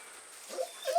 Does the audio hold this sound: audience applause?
no